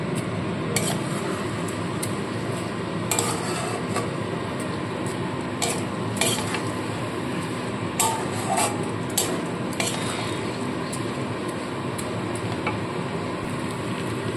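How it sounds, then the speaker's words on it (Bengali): Rice frying in a pan for chicken pulao, with a soft continuous sizzle and intermittent scraping clinks of a spoon stirring against the metal, close and fairly quiet. "বেশ খানিকক্ষণ কিন্তু চালটাকে ভেজে নিতে হবে এইভাবে।"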